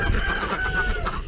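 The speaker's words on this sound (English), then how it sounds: "Chickens are moaning because they're chickens." Chickens clucking and fowl calls in a poultry yard, a steady run of overlapping clucks at close range filling the short stretch without any talk.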